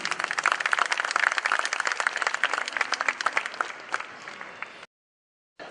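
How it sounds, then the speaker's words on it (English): Audience at an arts festival launch in Andheri, Mumbai, applauds steadily for several seconds, a dense wash of clapping that fades and cuts to silence near the end before a brief return. "Can we please have a round of applause for Mrs. Chanda Runwal, please?"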